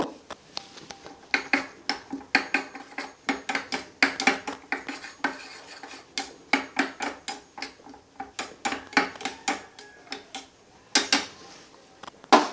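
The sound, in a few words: beating egg with salt and turmeric in a bowl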